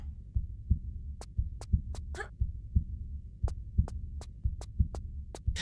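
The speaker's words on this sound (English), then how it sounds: "So whenever hearing that heartbeat, I guess I just like to imagine it's just a big fan or something." Heartbeat ambience from Tomb Raider Remastered: a steady, slow double-thump pulse with deep, muffled beats over a low droning hum, punctuated by sharp high clicks, no voices.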